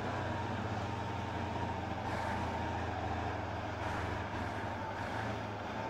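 A logging truck engine in the Spintires mud-driving game, a continuous deep diesel growl with a steady low hum underneath, rising a little in loudness now and then.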